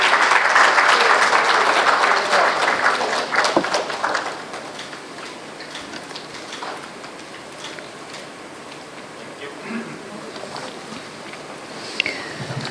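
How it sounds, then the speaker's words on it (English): Applause at a space conference for a report release, a crowd of clapping hands loud for about four seconds, then thinning to scattered claps and room noise. "A round of applause, ladies and gentlemen,"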